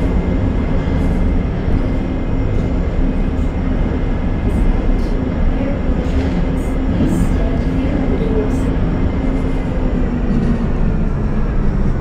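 An automated airport transit train in a video game, running on the Westwood Airport Transit line: a steady, loud rolling rumble and rail hum that continues without a break.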